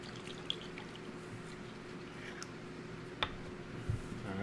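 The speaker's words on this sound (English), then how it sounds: "So let's give it another shake and a pour." Alchemy Peppers hot sauce, runny and pulpy, poured from a shaken bottle, a soft steady liquid flow over a low background hum with a few faint clicks near the end.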